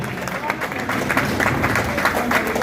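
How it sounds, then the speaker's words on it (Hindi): Crowd applause at the opening ceremony of a junior cricket league in Jhelum, a loud, close burst of many hands clapping with a rough, busy texture and some voices mixed in. "तालियों में कंजूसी ना करें।"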